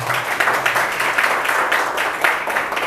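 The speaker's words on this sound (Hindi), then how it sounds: "पहले एक बार माँ के लिए आप लोग तालियां जो है वो बजा दें।" An audience at a literary festival performance applauds, a dense wash of many hands clapping together at fairly loud volume, steady with slight swells throughout.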